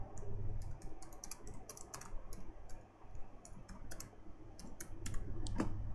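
Quick bursts of typing on a computer keyboard, clusters of light key clicks with short pauses between, fairly quiet against a soft room hum.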